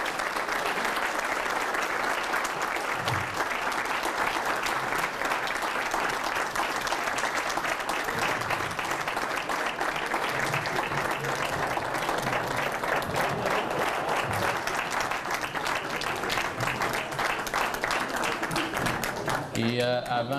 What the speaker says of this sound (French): j'aimerais qu'on applaudisse tous les 4 candidats qui nous ont offert des très bonnes réponses